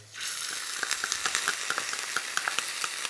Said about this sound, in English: I can then pop my rice into that hot oil.